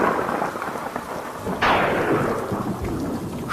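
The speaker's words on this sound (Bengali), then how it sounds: "সজোরে বৃষ্টি শুরু হয়ে গেল।" Heavy rain pours in a steady wash, and a sharp thunderclap breaks in midway before rolling off into a long rumble under the downpour.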